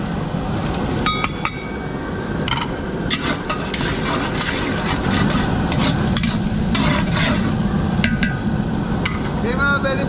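Onion and garlic frying in a large pot for a big batch of food packs, a steady close sizzle with metal spoon stirring clinks and scraping throughout, no talking.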